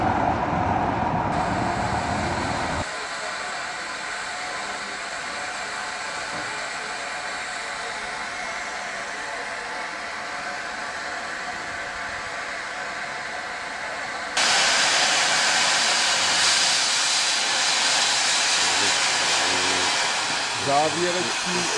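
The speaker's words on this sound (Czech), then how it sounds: "Motorový pracovní vlak s dvoucestním vozidlem na vagónku vyjíždí po" Diesel narrow-gauge work train carrying a road-rail vehicle on a wagon, departing on the Molli railway at Bad Doberan: a continuous engine drone and hiss. The sound becomes louder and brighter partway through.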